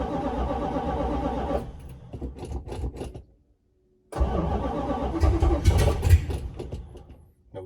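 A 1965 Plymouth Satellite V8 with a restored starter and a bad Bendix cranks on a 28-degree morning without choke: a close, loud churning burst, a short falter and brief silence, then a second strong cranking run.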